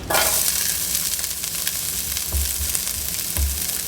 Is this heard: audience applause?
no